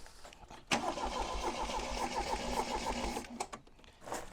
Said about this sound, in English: Before I do, I'm going to give it another bit of a crank.